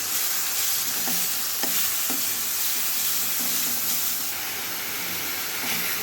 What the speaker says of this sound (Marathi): व्यवस्थित हलवून घेऊया व्यवस्थित मिक्स करायचे